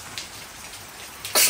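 A single sharp sneeze bursts out near the end, loud and close, over a soft steady patter of rain falling outdoors on a farm during weeding.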